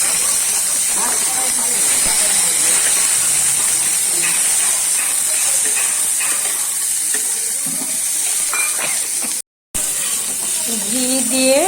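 Cashews and raisins frying in ghee for pulao, a loud, steady steamy hiss throughout with a brief cut near the end and faint voice sounds mixed in underneath.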